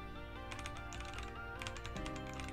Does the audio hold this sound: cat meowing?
no